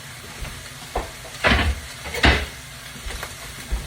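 Browned ground beef and chopped onion sizzle together in a pan for slumgullion, with a moderate hiss punctuated by several distinct scraping stirs that flare up briefly between quieter stretches.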